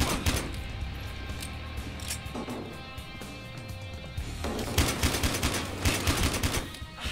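Bursts of gunfire strike a punching bag in a penthouse in the shooter Battlefield Hardline, rapid shots with clustered volleys, loudest in the second half, against background game noise.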